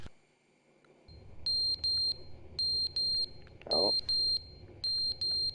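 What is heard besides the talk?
smoke alarm beeping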